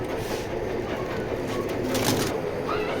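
Racing pigeons from a Satkhira club coo in low, repeated tones over a steady, noisy background. The cooing sits fairly close and stays faint throughout.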